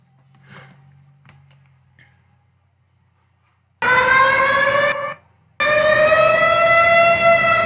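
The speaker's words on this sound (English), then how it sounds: "if I heard a siren that loud, that would actually hurt my ears" A civil defense alarm siren blares loudly with a harmonic wail, sounding in two long bursts separated by a short gap, after a few faint knocks and near silence.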